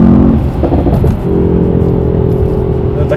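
A Mercedes-AMG E 63 S engine revs up with a rough, mechanical exhaust rumble through its exhaust flap, holding a steady drone after a brief dip, close and loud.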